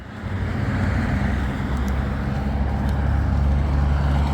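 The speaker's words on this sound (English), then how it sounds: "All of this traffic, all of this noise, after being in the woods for a couple weeks, it's overwhelming." Steady road traffic roaring nearby in a town, with cars and trucks passing in a continuous loud low rumble and no speech.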